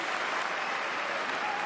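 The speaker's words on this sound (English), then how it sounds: "And it's worth a round of applause." A crowd at a wheelchair tennis medal match applauds, a dense, steady wash of clapping that holds at an even level throughout without any voices standing out.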